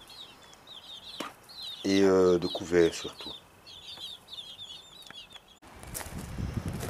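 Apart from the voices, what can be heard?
mother hen with her eleven chicks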